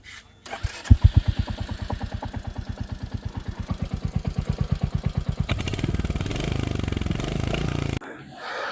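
A motorcycle engine cranks and starts in Shimla, then settles into a rhythmic thumping idle that grows slightly louder before cutting off abruptly near the end.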